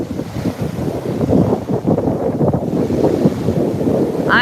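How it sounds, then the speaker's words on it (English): Ocean waves at a surfing beach break roll and wash continuously, with a steady low roar of surf mixed with buffeting wind noise on the microphone. "These waves are not the best."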